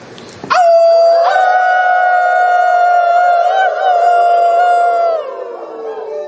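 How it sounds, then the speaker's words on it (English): An audience howls together after a deep breath: one sustained, loud, wavering howl rises suddenly and holds steady for about five seconds before tapering off. "this time when you release, let out that howl, whatever feels right to you"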